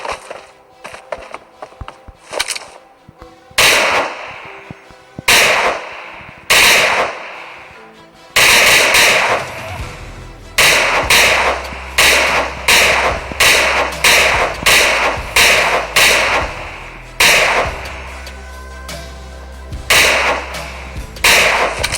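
SKS rifle gunfire in PUBG Mobile, loud sharp cracks fired singly and then in quick irregular bursts, with brief pauses between volleys and no talk over the shots.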